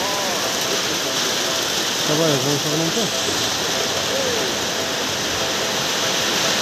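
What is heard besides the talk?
rain falling outdoors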